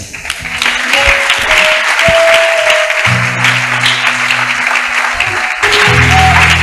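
A church congregation breaks into loud sustained applause and cheering to acclaim the Lord, steady and close throughout, with organ or keyboard tones playing underneath.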